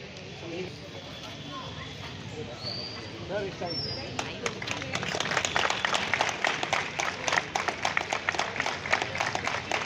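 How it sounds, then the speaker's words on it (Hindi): An audience at a National Voters' Day school event applauds a disabled student's sports medal, a crowd's clapping swelling from scattered claps into sustained loud applause, with someone talking over the start. "एक बार और जोरदार ताली बजाइए हमारे मुनिया के लिए।"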